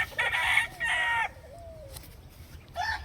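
A rooster crows twice nearby, loud and clear, with a short pause between the calls and a softer background bird chirp.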